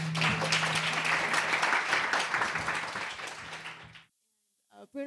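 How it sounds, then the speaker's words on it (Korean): An audience at a youth climate conference session in Korea applauds, a dense, steady wash of clapping that holds for about four seconds, then fades and stops, followed by a brief voice. "큰 박수로 부탁드립니다"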